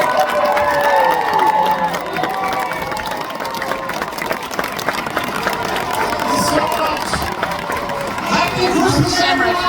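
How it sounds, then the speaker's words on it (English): A large outdoor crowd at Disney's Magic Kingdom in Florida cheers and applauds for Elton John, a dense, steady roar of clapping and shouting with voices mixed throughout. "big applause"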